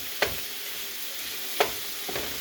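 Quiet, steady sizzling of sausage frying in a pan, with a couple of soft clinks of a utensil against it.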